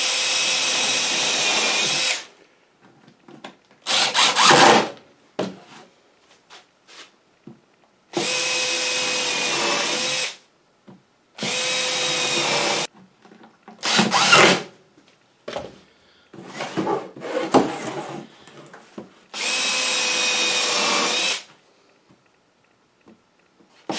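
A power drill bores pilot holes through a space heater's cover in several separate loud bursts of a few seconds each, with shorter rattling handling noises and pauses between them.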